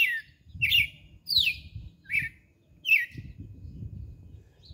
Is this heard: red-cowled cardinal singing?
yes